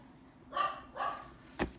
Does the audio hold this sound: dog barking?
yes